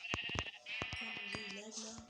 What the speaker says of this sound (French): Y'a des moutons!